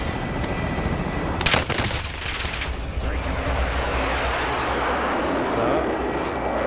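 A helicopter in the shooter game Call of Duty: Modern Warfare drones steadily throughout, a broad, roaring engine and rotor wash, with a sharp burst of gunfire cutting through early on.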